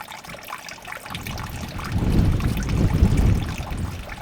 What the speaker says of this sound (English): that's the land water coming all the way from the back of the house, all the way down and into that drain